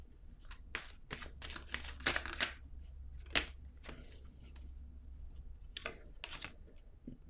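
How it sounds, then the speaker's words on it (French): Tarot cards being handled and laid down close up: a run of soft, crisp card slaps and shuffling brushes at irregular intervals, quiet and without talk. "Je vais déposer une autre carte."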